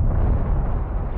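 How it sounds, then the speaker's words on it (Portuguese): A deep, booming blast from Vesuvius erupting, a short, loud, low rumble that stays heavy throughout, with no voices over it. "uma segunda e maior explosão arrebentou todo o topo do Vesúvio"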